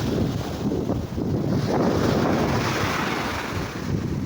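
Strong ocean waves breaking on a beach, a continuous roaring wash of surf mixed with buffeting wind on the microphone, swelling and easing in loudness with no talk.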